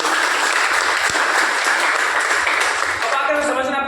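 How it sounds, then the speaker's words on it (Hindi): Audience applause for an organization at a business presentation: dense, loud, close clapping from a crowd, steady throughout and thinning slightly toward the end. "मैं चाहूंगा एक बार हमारी संस्था के लिए दमदार तालियां हो जाएंगी।"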